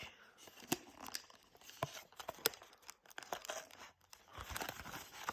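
Cardboard and plastic wrap being torn and crinkled while opening a display box of Pokémon Destinées de Paldea booster packs, with close, quiet ripping bursts and rustling in an irregular rhythm, no talking.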